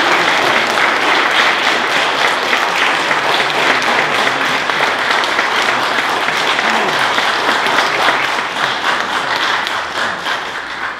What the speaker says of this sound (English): So let's go ahead and give them a big round of applause.